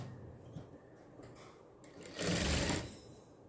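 A sewing machine stitches the back neck seam of a blouse, starting with a few soft mechanical clicks before one short, loud burst of rapid stitching lasting under a second, heard up close.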